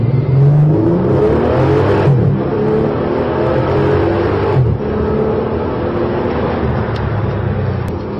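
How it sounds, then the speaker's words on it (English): A Bentley Continental Super Sports powers up the Goodwood Hill Climb, its engine roaring loud and close with brief dips at gear changes before pulling hard again. "you missed this Bentley Continental Super Sports racing up the Goodwood Hill Climb"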